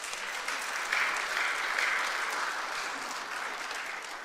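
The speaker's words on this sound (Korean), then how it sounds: "박수 한번 크게 하십시다." A church congregation applauds its choir with steady, dense clapping that stays fairly even and close for several seconds, with no voices over it.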